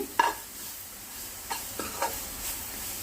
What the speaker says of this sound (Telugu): ఇదైతే మొత్తం అంతా ఇలా కలుపుకోవాలి